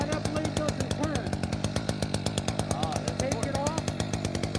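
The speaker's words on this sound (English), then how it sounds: "And that's the chainsaw." A chainsaw runs at steady speed with a rapid, even engine rattle, fairly close, while someone talks over it.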